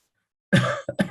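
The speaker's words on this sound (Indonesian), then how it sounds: "maaf, batuk saya" A single sharp cough after a moment of silence, followed by two quick smaller hacks close to the microphone.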